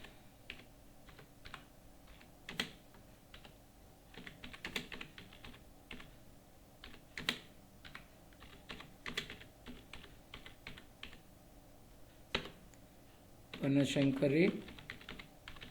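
Keys clack on a computer keyboard as an address is typed into Tally Prime accounting software, light irregular taps spread through the clip with a denser burst near the end, and brief speech passes in the room.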